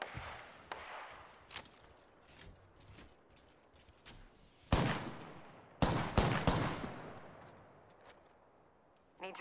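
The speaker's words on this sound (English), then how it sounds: "The enemies are shooting at me." Enemy gunfire in the video game Apex Legends comes in repeated loud bursts of shots and heavy impacts with steady game noise between them. The louder volleys cluster toward the middle of the stretch.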